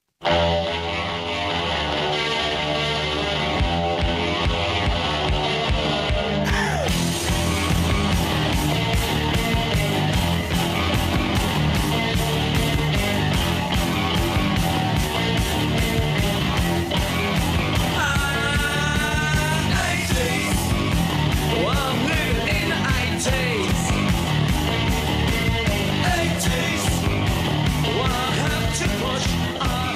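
A loud, driving rock track with distorted guitar, steady drums and a repeating riff plays throughout.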